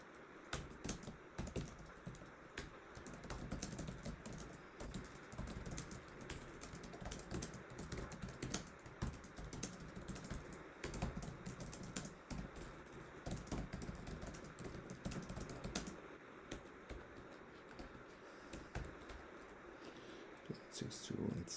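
Two people type steadily on computer keyboards for a long stretch, a dense, continuous patter of close key clicks with occasional quiet talk underneath.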